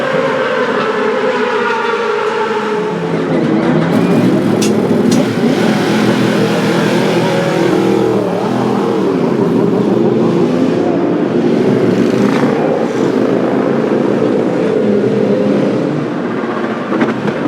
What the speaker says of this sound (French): Jérôme, faut couper le moteur maintenant